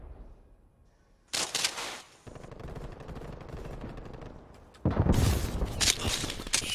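Rapid bursts of automatic gunfire from the video game Call of Duty: Black Ops Cold War, loud and close, with a sustained stretch of shooting in the middle and a heavier volley near the end, no talking.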